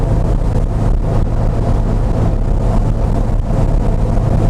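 A 1967 Porsche hotrod engine gives a loud, continuous, gritty roar while driving on a rough country road. The throttle surges and dips slightly, heard from close inside the car with no talk.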